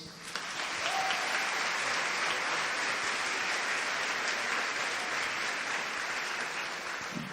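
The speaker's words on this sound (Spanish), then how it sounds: "Gloria a Dios por ustedes, dense un aplauso." A church congregation claps during a homily service, a steady, even wash of applause lasting several seconds with no voices over it.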